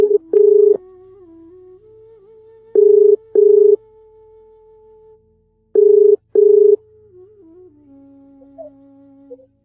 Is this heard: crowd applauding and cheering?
no